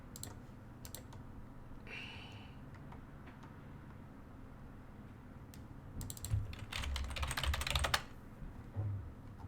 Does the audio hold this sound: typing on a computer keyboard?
yes